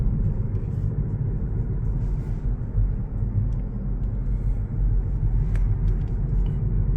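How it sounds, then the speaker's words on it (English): Steady low road rumble and soft hum inside a Hyundai Ioniq 6 AWD Long Range electric sedan on a sedate urban drive over smooth pavement, continuous and subdued, with faint tire noise and no voices. "Quick idea of just how quiet this thing is on a, you know, sedate urban drive on some nice pavement."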